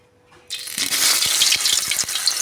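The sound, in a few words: pointed gourd frying in hot mustard oil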